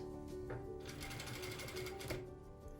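A sewing machine runs in a quick burst, stitching a velour sleeve lining for a traditional robe, its rapid mechanical chatter starting and stopping close by and faint, with no one speaking.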